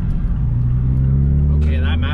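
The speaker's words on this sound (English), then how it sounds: "that Mazda just about went off the road" Mazda car driving past at an evening cars-and-coffee meet, a steady loud engine drone with rising revs near the end, under the noise of a crowd.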